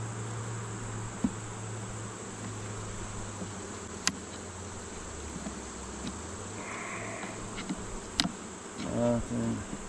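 Caucasian honey bees buzz as a steady close drone while a hive is opened for inspection, with a few sharper individual passes and light handling noises near the end.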